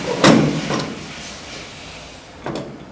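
Metal lever door being fitted onto a Presidential soft-serve ice cream machine: a loud sliding clatter, a smaller knock, then another clunk near the end, close and without talk.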